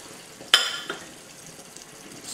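Frozen peas tipped into a hot pan of vegetable curry: a sharp clatter and burst of sizzle, a second smaller rattle, then a faint simmering hiss, close and alone without talk.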